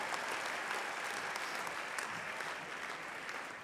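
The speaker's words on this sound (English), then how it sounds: "Please give a round of applause for the graduates from the Bachelor of Commerce Accounting program." A large crowd applauds graduates at a business school spring convocation, a dense, steady wash of many hands clapping that holds for a few seconds and eases slightly toward the end.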